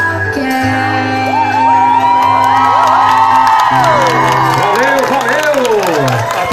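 A live audience shouts, whoops and cheers loudly after a student's performance of a song, with steady applause and voices rising together throughout, alongside lingering sung or held tones underneath.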